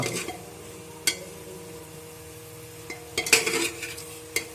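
Pork being stirred with a little water in a cooking pot, with intermittent scraping clinks of a utensil against the metal over a low background, a few sharper knocks standing out, no talking.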